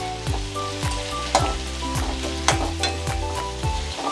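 Green field beans and tomato sauté in a pan for Bangalore-style upma, giving a close, steady sizzle with a few scraping stirs, while music plays over it and no one speaks.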